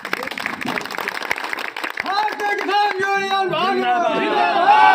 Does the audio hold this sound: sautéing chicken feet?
no